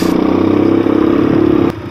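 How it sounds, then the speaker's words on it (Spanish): Motorcycle engine running steadily and loud up close at a fuel stop in Bolivia during a round-the-world ride, a continuous throbbing idle-to-rev drone with no talk. "Esta moto pasa."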